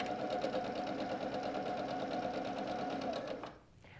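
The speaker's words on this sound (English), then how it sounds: "I'm ready to start sewing." A sewing machine stitching a quarter-inch quilt seam on fabric for a log cabin pillow, a steady close whirring drone that runs for about three and a half seconds before stopping abruptly.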